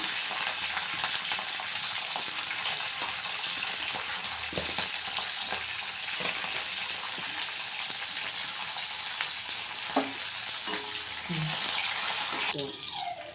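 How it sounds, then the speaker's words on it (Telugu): Green chillies, broken in half, frying in hot oil in a pan, a steady sizzle and crackle that runs throughout with occasional stirring clinks and some quiet talk. "ఆయిల్ పోసిందండి. వేడైన తర్వాత ఫస్ట్ పచ్చిమిరపకాయలు వేపుకుందామండి."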